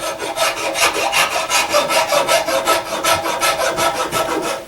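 A smooth rasp files wood on a gunsmithing piece in fast, even back-and-forth strokes, about four per second. The rough scraping is close and steady, with no talking.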